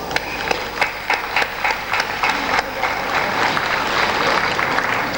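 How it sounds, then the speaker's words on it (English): Applause from an audience at a church Easter drama, a dense steady patter of many hands clapping at moderate loudness that builds and continues throughout. "I will request everybody to join me with a loud applause."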